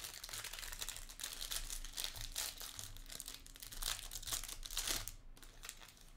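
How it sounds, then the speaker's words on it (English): Trading card packs from 2022 Prizm World Cup Soccer and 2023 Topps Series 1 Baseball boxes being cut apart, a steady close crinkling of foil wrappers with continuous rustle and small crackles, no voices. "I'm going to cut the packs apart."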